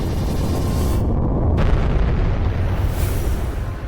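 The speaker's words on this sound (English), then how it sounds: "leaked video revealed an explosion that had destroyed the capsule" SpaceX Dragon 2 capsule blowing up during a SuperDraco abort-engine test, caused by a faulty valve: a sustained, loud, roaring blast that fills the whole clip with dense rumbling noise and a sharp surge partway through, with no voices.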